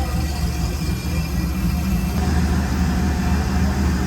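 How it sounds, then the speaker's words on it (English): A Chevrolet LS V8 in a slime green box Chevy on 26-inch wheels idles with a steady, loud, low rumble that holds evenly throughout. "LS engines everywhere, YouTube."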